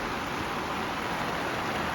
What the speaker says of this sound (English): usually when it rains this hard, I move it under cover, but I didn't expect this rain